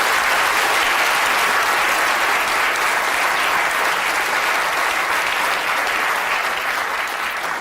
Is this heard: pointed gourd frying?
no